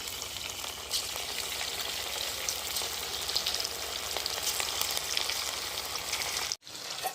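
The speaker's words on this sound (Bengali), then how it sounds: "তেলটা খুব ভালো করে গরম হয়ে গেছে এবার একে একে চিকেনগুলো ভেজে নেব" Chicken pieces for restaurant-style chilli chicken deep-fry in hot oil, a loud, steady, dense sizzle that runs without a break until a sudden drop near the end, then resumes more quietly.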